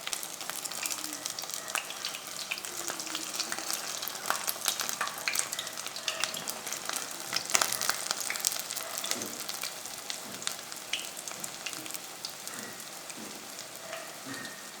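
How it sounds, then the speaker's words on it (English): Saltfish fritters sizzle and crackle in hot oil in a pot, a steady, busy frying hiss with scattered pops, close and fairly loud. "So this is my second batch of fritters frying."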